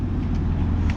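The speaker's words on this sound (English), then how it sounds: "Because that did a good burnout." A 2020 Dodge Challenger Hellcat with its mid muffler deleted roars through a burnout, a loud, steady low engine drone held without a break for a full second, with no talk over it.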